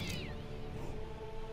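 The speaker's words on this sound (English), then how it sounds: "shit, that was a zombie cat." A zombie cat in South Park: The Stick of Truth lets out a brief, rising-then-falling meow at the start, heard over a steady, droning game soundtrack and background hum.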